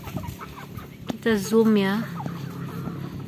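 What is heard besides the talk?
chickens clucking while being fed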